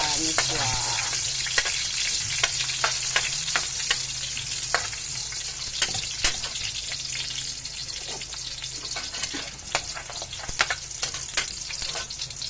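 Onion stir-fried in a pan with misua noodles, a steady moderate sizzle broken by repeated sharp clicks and scrapes of a utensil stirring against the pan.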